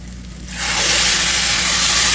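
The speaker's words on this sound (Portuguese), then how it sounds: "nós vamos acrescentar uma xícara de vinho branco seco" A cup of dry white wine poured into a hot pan of risotto bursts into a loud, broad sizzle about half a second in, then hisses steadily and evenly to the end.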